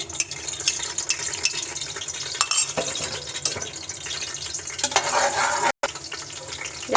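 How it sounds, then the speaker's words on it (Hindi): Garlic paste sizzles and fries steadily in hot oil in a pan for chicken with potatoes and peas, a close, continuous crackling hiss with occasional stirring and light clinks of a utensil. "ऑयल गर्म हो गया, इसमें लहसुन का पेस्ट शामिल कर देना है।"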